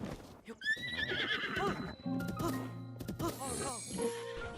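A horse in the video game Breath of the Wild neighs with a rising, wavering whinny near the start, then clip-clop hooves and game sounds carry on under a voice.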